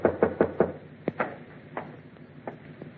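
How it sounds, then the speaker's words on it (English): Knocking on a wooden door in a radio drama, four quick firm raps followed by slower scattered knocks, close and dry with no talk. "waited for your knock on my door"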